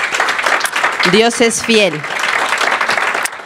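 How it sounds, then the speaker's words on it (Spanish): A church congregation claps for the offerings and tithes, a dense wash of applause running throughout while someone speaks over it in Spanish. "le damos un aplauso a las ofrendas y diezmos."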